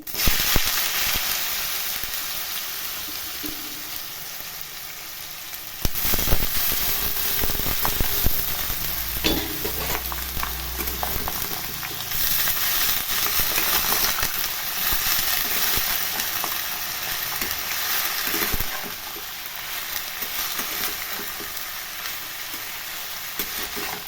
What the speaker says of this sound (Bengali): পাঁচ থেকে সাত মিনিট আমি এরকম নাড়াচাড়া করে ভাজা ভাজা করতে থাকবো